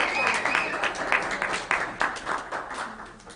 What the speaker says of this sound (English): So will all of you please give us a round of applause?